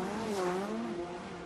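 A touring race car on the Nordschleife revs in a brief surge as it crests a rise, its engine note climbing and dipping at a distance during a 2016 World Touring Car Championship race.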